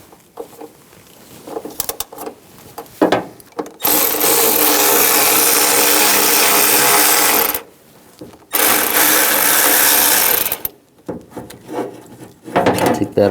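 A 13mm socket wrench removes door hinge bolts on a 2011-2018 Ram 1500. Two long, loud, close bursts of rapid ratcheting are separated by a short pause, with quieter tool handling before and after.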